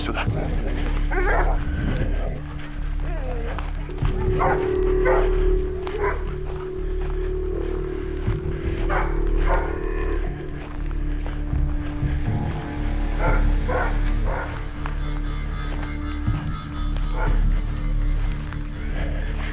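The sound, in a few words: dog on a chain barking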